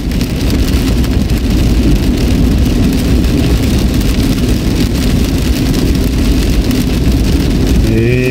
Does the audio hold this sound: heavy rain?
yes